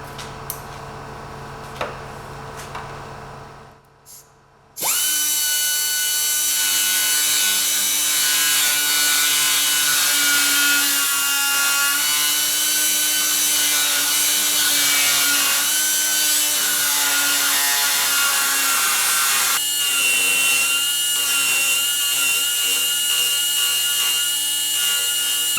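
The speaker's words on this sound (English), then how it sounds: "So now just going to use die grinder, get it a little bit closer" A die grinder works loudly and steadily on the metal of a Mini's inner wing during restoration, starting with a sharp burst after a brief quiet lead-in and holding a continuous high whine with a slight shift in tone near the end.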